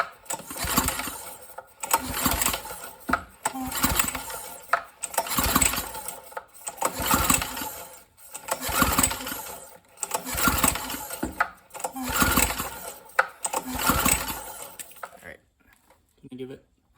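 A Briggs & Stratton 3.5 hp small engine is pull-started again and again: about seven rhythmic cranking bursts, close and loud, each a second or so long. It never catches and falls quiet at the end.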